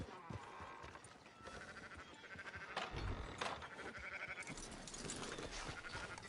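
Sheep bleat in scattered calls within the video game Red Dead Redemption 2, mid-distance bleats over a busy farmyard ambience with occasional clatter and brief voices.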